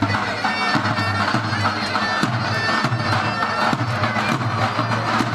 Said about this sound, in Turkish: Büyük şampiyon alkışlar